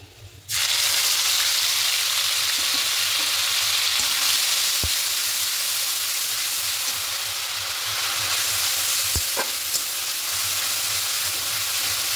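Onion and tomato paste dropped into hot oil with whole cinnamon, cardamom and cloves for an egg curry: a loud sizzle bursts in after a brief quiet start and holds steady, with faint spoon taps.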